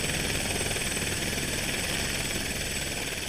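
A helicopter carries skiers up to a mountain summit in the Chic-Chocs, its engine and rotor roar loud, close and steady, a dense continuous drone with no voices heard.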